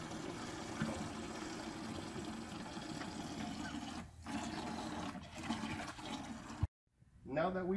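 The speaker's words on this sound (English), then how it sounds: "we've allowed enough water to go ahead and drain out of this pre-filter housing again" Water draining from a water filter's pre-filter housing through a quarter-inch hose with the valve opened, a steady rushing flow that runs continuously before cutting off abruptly near the end, followed by faint handling noise.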